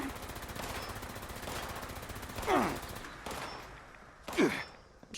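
Enemy gunfire in the video game Fallout 76 rattles on steadily in rapid automatic fire at moderate distance, broken by two louder, sharper bursts before fading out.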